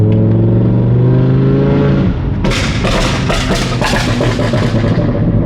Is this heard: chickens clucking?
no